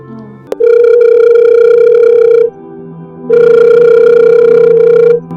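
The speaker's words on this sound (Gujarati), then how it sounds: "રિંગ વાગે છે પણ ઉપાડતા જ નથી" A telephone rings unanswered in two long, loud electronic ring bursts about two seconds each, separated by a short pause, with a brief click just before the first ring.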